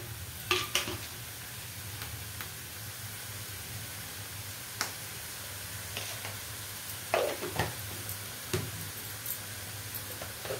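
Soya chunks frying in a pan, a steady low sizzle broken by occasional sharp spatula taps and clicks, with no talk.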